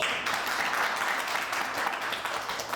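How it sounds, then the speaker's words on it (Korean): Audience applause at a startup journalist corps launch ceremony, a dense, even wash of clapping that holds steady for a few seconds with no voices over it. "다시 한번 박수."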